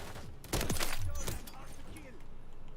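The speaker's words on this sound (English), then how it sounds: "I'm getting sniped from somebody up top" Sniper gunfire in a video game: a single sharp shot rings out, followed by a few fainter reports and rumbling game sounds, with a voice talking over it.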